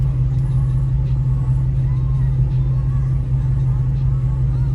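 A 1990 Ford Mustang GT engine idles at about 600 RPM, a low, steady rumble at close range, a deep even drone with faint higher noise on top and no talking.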